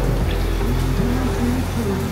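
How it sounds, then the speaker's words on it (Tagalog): Heavy rain pours steadily in Taiwan while people shelter in a store, a dense continuous hiss filling the scene with faint voices underneath. "sumisilong kami, lakas sa ulan eh"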